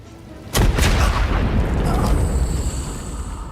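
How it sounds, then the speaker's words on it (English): Rocket launched in the Star Wars Zero Company turn-based tactics game: a sharp booming blast hits at once, then a sustained roaring rumble and crackle trails off, loud and close. "we can use the rocket"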